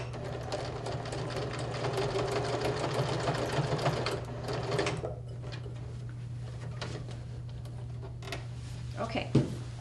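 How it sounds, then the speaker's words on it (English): A domestic sewing machine stitches across the end of a piece of fabric, a fast steady mechanical whirr with a low hum, stopping about halfway and followed by small handling clicks. "And then sew across the end again to kind of make a flat point."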